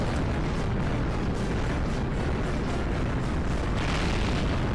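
Missile launcher explosions in Global Defence Force, a loud, unbroken roar of overlapping blasts and bursts filling the whole stretch without pause.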